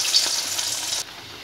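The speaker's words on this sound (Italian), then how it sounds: "andiamo a friggere." Potato and onion frittatine frying in hot oil, a steady bright sizzle that cuts off abruptly partway through, leaving quiet hiss.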